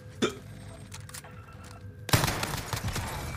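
Gunfire in the Warzone video game: a sharp shot near the start, then a dense burst of loud firing fills the second half, with quieter game noise between.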